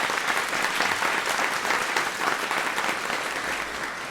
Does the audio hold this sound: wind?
no